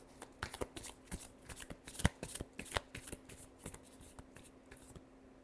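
Tarot cards are shuffled by hand up close, a quick run of soft riffling flicks and taps that thin out toward the end, faint and with no talking.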